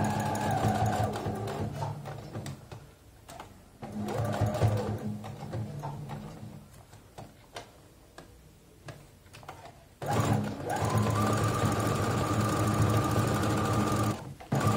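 Sewing machine topstitching along the edge of a mitred-corner placemat, running in several loud bursts with brief pauses between them, the last long run steady and close.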